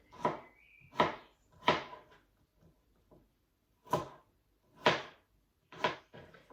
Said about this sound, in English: we're going to chop up our onions really, really finely